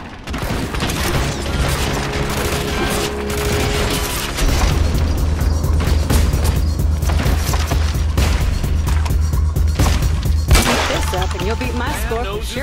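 Repeated gunfire at a shooting range in the video game Hitman Absolution, with booming shots and rapid bursts over a steady low hum and game music throughout.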